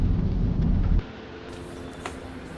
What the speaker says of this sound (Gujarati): વરસાદ હોય ને એટલે માહોલ બગાડી દે છે